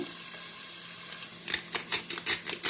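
Onion frying in olive oil in a pan, a steady low sizzle that grows busier partway through with scattered crackles and scraping stirs, close and moderately loud, no voices.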